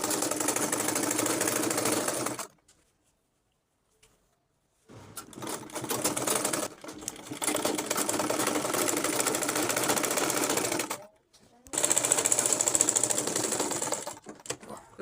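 A sewing machine stitching a straw mat turban cap runs in steady rapid bursts, close and loud, stopping briefly twice between runs of stitching.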